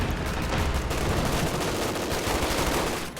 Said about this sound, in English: He put a machine gun there.